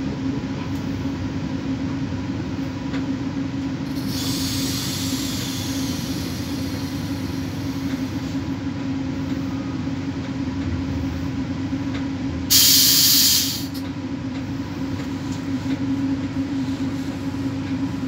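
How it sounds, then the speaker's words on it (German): Steady rumble and hiss inside a moving train bound for Dortmund, with a constant low drone and brief brighter hissing bursts partway through, no talking. "Ihr seht, dass ich im Zug drin sitze"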